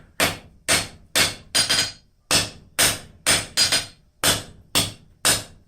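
A blacksmith hammers forge-welded steel into a ram's head on an anvil. Eleven loud, ringing blows fall close by in an uneven rhythm, some in quick pairs, with no talking.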